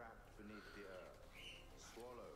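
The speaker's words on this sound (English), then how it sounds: "Apologies if you can hear the birds screaming in the background" Faint birds, likely pigeons or doves, coo in the background with soft, rising and falling calls, quiet and distant throughout.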